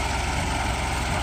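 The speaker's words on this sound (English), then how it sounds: "this is a 1948-49 Ford 8N with a Freeman loader" A 1948-49 Ford 8N tractor fitted with a Freeman loader idles in a steady, continuous low engine rumble, close and even, with no voices over it.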